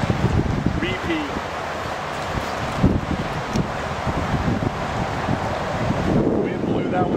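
Strong wind buffets the microphone beside a river during fly fishing with a spey rod, a loud steady rumble with rustling and moving water beneath it throughout, and a person's voice faintly present.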